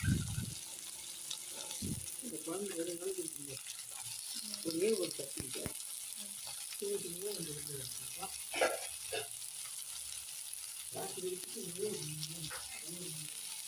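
Oil sizzles steadily as garlic fries in a pan, while a person speaks briefly over the crackling.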